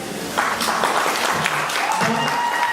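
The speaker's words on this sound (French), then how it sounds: "Donc on a applaudi très fort." Loud, dense applause from a village audience at a retirement celebration for mothers in Côte d'Ivoire, steady throughout with voices mixed in.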